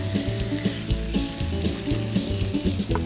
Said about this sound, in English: take my meat over here and listen to it sizzle